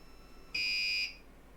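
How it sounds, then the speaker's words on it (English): A 3D printer sounds its finished alarm: one steady high-pitched electronic beep lasting about half a second, clear and fairly loud over quiet room tone. "My 3D printer has finished."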